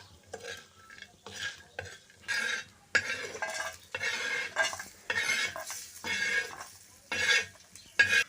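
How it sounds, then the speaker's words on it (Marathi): Drumstick pods stir-fried with turmeric in a pan, with a spoon scraping and clanking against the metal in repeated short strokes over a faint sizzle, all close by and with no talking. "या असं परतून घ्यायचं चांगलं हळद टाकायची म्हणजे कलर येतो परतून घ्यायचं चांगलं"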